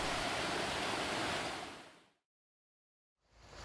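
Steady broadband rush of the Guadalix river flowing at San Agustín del Guadalix, a constant water roar that fades out to silence, then returns faintly near the end.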